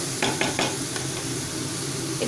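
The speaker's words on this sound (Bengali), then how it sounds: "পেঁয়াজ লঙ্কা টমেটোগুলোকে পুরো কিন্তু মাখা মাখা হবে না কিন্তু একটু সটে করে নিতে হবে" Onions, chillies and tomatoes sauté on a low flame in a pan. A continuous soft sizzle runs throughout, with a few quick stirring scrapes early on.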